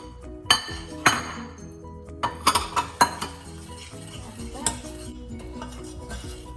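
A spoon clinks repeatedly against a pan while cocoa mixture is stirred over low heat, with sharp metallic taps at irregular moments and a soft background hum.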